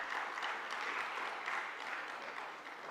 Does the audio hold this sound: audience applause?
yes